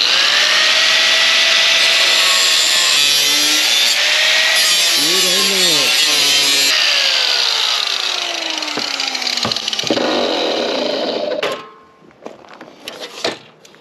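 A cutoff wheel bites into metal with a loud, sustained grinding whine that wavers in pitch for about eleven seconds. It then cuts out, leaving quieter clanks and handling noises.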